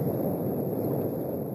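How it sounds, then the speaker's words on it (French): Wind rising at a cliff face where base jumping is underway buffets the microphone with a low, steady rumbling roar that stays fairly even throughout, with no voices heard. "Le vent vient de se lever."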